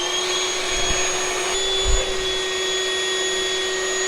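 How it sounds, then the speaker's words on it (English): A small battery-operated shop vac sucking old gas out of a jet ski left sitting for three years, a steady loud whine and rush of airflow throughout, close, with a couple of brief low bumps. "I'm going to see if I can't turn the little battery-operated shop vac on"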